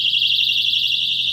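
A 140-decibel personal safety alarm from England blares a loud, continuous, piercing high-pitched tone, steady and unbroken throughout.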